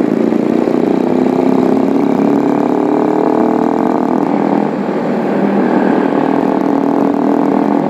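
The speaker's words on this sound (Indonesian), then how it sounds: "Enak juga bawa motor ini ya, walaupun banyak penyakitnya." A motorcycle ridden through the streets of Yogyakarta gives a steady, close engine drone that holds for the whole stretch, with only a slight dip midway and no talking.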